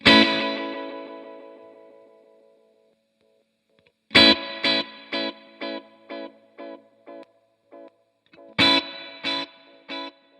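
An electric guitar runs through a delay pedal on its 2 and 4 setting: a ringing chord decays alone, then sharp plucked chords repeat in evenly spaced echoes that fade away, with a second burst of repeats following.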